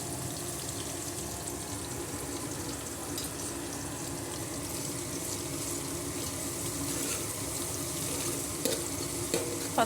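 Fennel seeds sizzle in hot oil while a vegetable khichdi is being cooked, giving a steady, dense crackle and hiss throughout at an even level, with a few sharper pops near the end.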